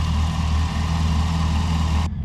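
A flood-damaged Chevrolet Camaro ZL1 engine idling while it warms up: a steady, deep, even rumble close by that cuts off abruptly near the end.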